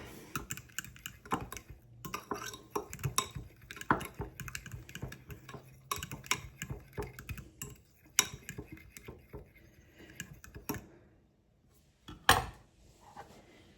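Ingredients for roast beef and cheese sliders mixed in a bowl produce quick, irregular clicks and scrapes of a utensil against the dish. The taps are brisk and close, with a few short pauses and a sharper knock near the end.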